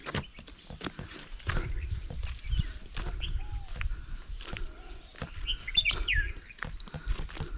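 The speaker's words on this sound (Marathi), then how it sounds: "पक्ष्यांचा आवाज छान सुटला आहे, येतोय" Birds chirp and tweet intermittently in the background of a Konkan orchard, mixed with scattered footsteps and clip-clop sounds nearby.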